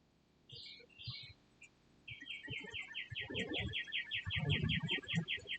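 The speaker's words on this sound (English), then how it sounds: "so there's a lot of birds and stuff" A bird sings a fast, steady string of high chirps, with a few other calls before it and some low rumbling sounds underneath.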